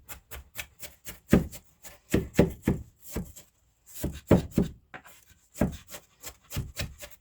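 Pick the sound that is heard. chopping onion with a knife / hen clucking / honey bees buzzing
chopping onion with a knife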